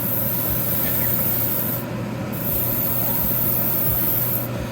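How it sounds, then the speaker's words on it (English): Airbrush spraying paint onto parts of an MG 1/100 Gundam model kit, a steady close hiss of air and paint running without a break, with the spray dropping out briefly twice. "when I start airbrushing"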